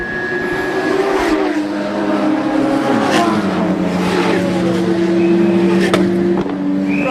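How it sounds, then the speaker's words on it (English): A Ferrari race car sits in the pit lane at a motorsport festival, its engine droning steadily and loudly with a shifting tone, while other car noise fills the background. "we got the Ferrari and the Stradale car into the pits at the same time"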